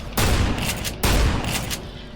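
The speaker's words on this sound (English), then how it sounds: "With the combat shotgun, it's basically a normal shotgun." A combat shotgun fires in a modded Minecraft game, two loud, booming blasts about a second apart, each with a short rolling tail.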